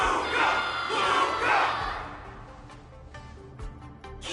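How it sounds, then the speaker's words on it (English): A crowd in Honkai: Star Rail roars and cheers loudly, swelling in waves before fading into scattered clatter and murmur. "Everyone's cheering for you"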